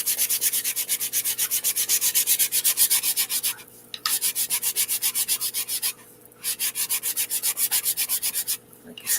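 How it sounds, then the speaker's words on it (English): Steady rhythmic sanding of wood, fast regular back-and-forth strokes scratching close and loud, pausing briefly three times, with no voices. "and then a great big sanding"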